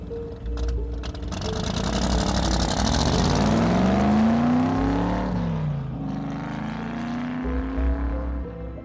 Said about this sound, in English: Exiting his home, Franklin hops in one of his cars and aggressively drives off into the night toward Republic City.